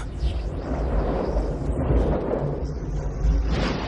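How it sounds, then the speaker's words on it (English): Thunder from an electrical storm in Jupiter's churning clouds rolls as a deep, loud, continuous rumble, swelling and fading with booming low surges and no talking. "All those churning clouds have sparked an electrical storm."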